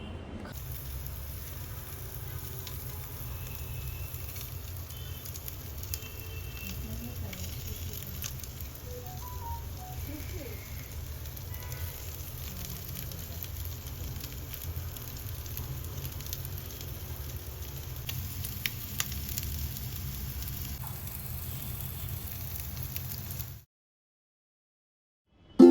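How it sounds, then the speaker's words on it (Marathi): Paneer thecha fries in a pan, giving a soft, steady sizzle and crackle that runs alone and fairly quiet for over twenty seconds before cutting to silence. "सो आता पटापट फ्राय करूया"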